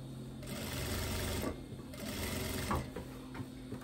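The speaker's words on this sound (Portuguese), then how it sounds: "Costurando bem na beiradinha." A sewing machine runs steadily, stitching close along the edge of fabric for a wide-leg cropped pant back seam, its motor hum and needle rattle continuous with a short slowdown midway.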